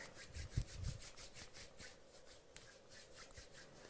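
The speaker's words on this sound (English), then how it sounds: "rub your hands together" Two hands rubbed together in steady back-and-forth strokes, a soft rhythmic swishing of skin close by and faint, with no talk.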